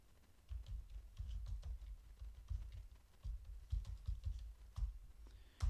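Quiet typing of a team name on a computer keyboard, with soft, irregular key taps in short bursts and small pauses, recorded close and faint.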